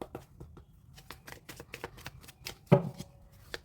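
Tarot cards from a second deck are shuffled: rapid, light riffling and tapping in quick irregular bursts, close and fairly quiet, with one louder slap near the end.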